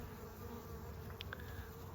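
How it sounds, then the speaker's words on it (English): Honeybees buzz steadily outdoors on a sunny early spring day, a faint continuous drone with a couple of closer passes, and no voices. "And the honeybees are getting active."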